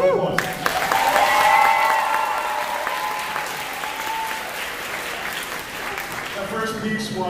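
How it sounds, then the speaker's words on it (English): Concert audience applauding a high school symphonic band after a Sousa march, sustained clapping with a tonal hum from the stage underneath and a voice speaking over it toward the end. "Give it another round of applause"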